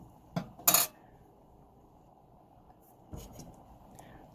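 A spoon stirs a big pot of chili, giving a couple of close, sharp metallic clinks against the pot. Another scrape follows a few seconds later in a quiet kitchen.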